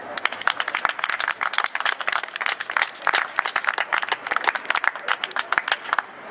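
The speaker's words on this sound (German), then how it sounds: "Applaus" Audience applause at an outdoor peace vigil rally in Saarbrücken, with dense, sustained clapping from a sizeable crowd throughout, loud and steady with sharp individual claps standing out.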